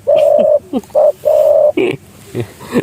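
Dove giving the deep, big-voiced 'sam kuk' coo, a series of loud, close, mellow hooting notes in short bursts with brief gaps between them, alone with no talking.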